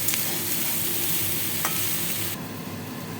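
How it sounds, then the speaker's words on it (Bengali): Steady sizzling of grated potato and pointed gourd frying with poppy seeds in a pan, with occasional stirring scrapes, close and continuous, no voices. "এবার এটাকে আমি পোস্ত দিয়ে ভালো করে ভাজবো।"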